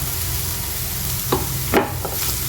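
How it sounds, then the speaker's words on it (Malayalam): Chicken pieces with small cuts of carrot and capsicum sauté in a pan, giving a continuous soft sizzle with a couple of brief scraping stirs near the end; no voices. "എന്നിട്ട് ഒന്നുകൂടെ വഴറ്റി"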